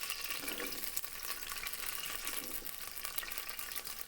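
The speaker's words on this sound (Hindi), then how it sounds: "ये मैंने 2 मीडियम साइज़ के प्याज डाले हैं। इसको ब्राउन कर दें प्याज को।" Two medium onions frying in hot ghee in a pot, a faint continuous hissing sizzle with occasional stirring, steady and fairly quiet with no talking.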